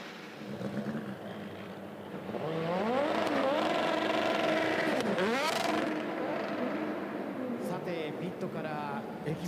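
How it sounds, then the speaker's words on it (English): Super GT and Super Formula race cars rev their exhausts in the pit at a Honda Racing thanks day event, loud rising and falling engine notes building after a quieter start, with an announcer talking over them. "So we hear some exhaust sound from the pit, and the final parade run is now beginning."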